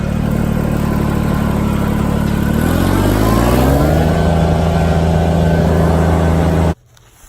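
A vehicle drives off down the road, its engine humming loud and close, then climbing in pitch as it picks up speed before the sound cuts off abruptly near the end.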